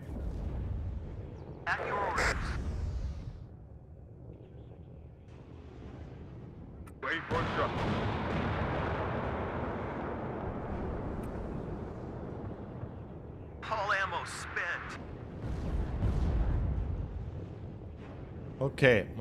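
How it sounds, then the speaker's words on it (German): Abrams tanks fire in the video game WARNO, with heavy booming cannon blasts, a long rumbling wash after one shot and several sharp reports, while someone talks over parts of it. "Die Abrams fangen an zu schießen."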